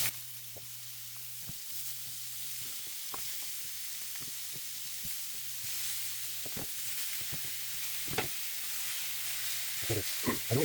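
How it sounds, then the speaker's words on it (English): Pork rib pieces sear over high heat in a frying pan, a steady soft sizzle with scattered pops and crackles that grow louder and busier toward the end, heard close with no talking. "these kind of pieces ready to be sealed in the fry pan"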